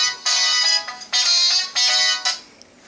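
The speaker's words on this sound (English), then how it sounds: "I got a call on my cell phone." A cell phone ringtone plays loud and close in three sustained, bright bursts separated by short gaps, the last one cut off early, with no talk over it.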